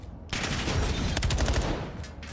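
Rapid gunfire from the Call of Duty video game, dense bursts of shots layered in quick succession after a brief quiet start, loud and continuous with overlapping volleys.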